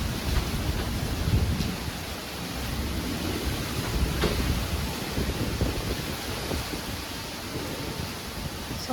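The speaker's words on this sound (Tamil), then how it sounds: "செம்ம காத்து." Strong wind blows steadily outside a home in a broadband rushing roar, gusting slightly louder in the first couple of seconds, with no voices.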